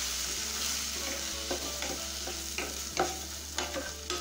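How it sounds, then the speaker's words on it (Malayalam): A spoon stirs ivy gourd stir-fry in a pan, giving soft scraping strokes and clinks in a loose rhythm over a faint steady sizzle, close and clear, with no voices. "നമുക്ക് ഇടയ്ക്ക് പാത്രം തുറന്നിട്ട് ഇതൊന്ന് മിക്സ് ചെയ്ത് കൊടുക്കണം"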